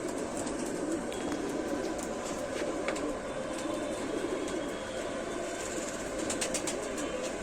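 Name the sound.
pigeon cooing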